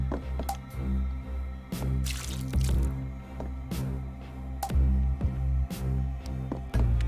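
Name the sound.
watering a tree in video game The Sexy Brutale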